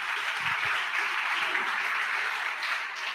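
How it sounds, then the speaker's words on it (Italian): Audience applause fills a sports awards ceremony in Sardinia, a dense, steady clapping from a crowd lasting a few seconds without letup. "Un applauso anche al Budoni,"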